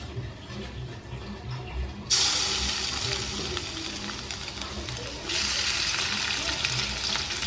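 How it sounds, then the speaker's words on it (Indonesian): Sambal chili paste frying for seblak in a pan, a steady broadband sizzle that jumps louder partway through and swells again near the end, close and continuous with no talk. "Sambalnya digoreng dulu guys."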